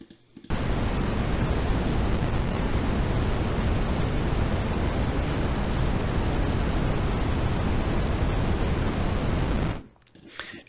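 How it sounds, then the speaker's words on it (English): Broadband red noise from the Geodesics Brains module in VCV Rack, a steady, loud hiss-rumble heavy in the low end that starts abruptly, holds unchanged for about nine seconds, then cuts off cleanly. "And so the actual noise, red noise, is coming out of Geodesics brains."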